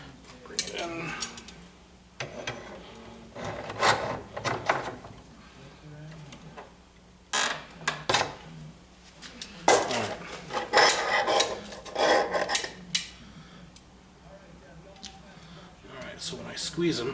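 Metal crucible tong arms being bent inwards by hand, with scattered clanks, scrapes and metallic taps in irregular bursts, close by, while a person talks between them.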